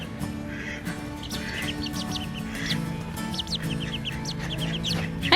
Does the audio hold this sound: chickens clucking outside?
yes